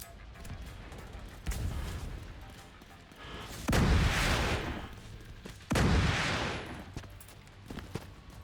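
Mortar fire in the video game The Division 2: several heavy booming impacts, each followed by a long rumbling wash, spaced a couple of seconds apart over quieter ambient game noise.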